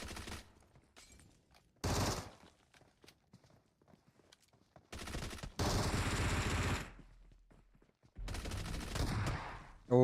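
Gunfire and shotgun blasts in a competitive battle royale video game come as separate loud bursts of shooting, broken by quieter gaps filled with footsteps and small clicks.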